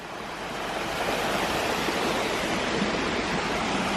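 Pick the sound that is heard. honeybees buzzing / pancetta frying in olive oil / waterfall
waterfall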